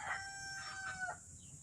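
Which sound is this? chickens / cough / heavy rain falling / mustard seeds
chickens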